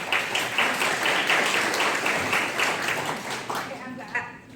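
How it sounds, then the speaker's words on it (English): Audience applause fills a county commission meeting room, a thick, even roar of many hands clapping that carries on for several seconds and then thins out as voices rise near the end. "if you will hold your applause till after, at the end of the meeting"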